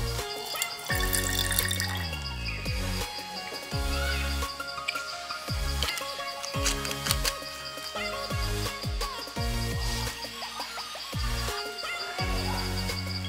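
A little water is poured into a bottle holding aluminum foil for a hydrogen reaction, with trickling and dripping pours and small clinks over several seconds.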